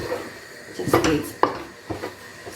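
Ugali being stirred in a pot, with a few scraping knocks of the spoon against the pot over a soft background and a voice speaking faintly.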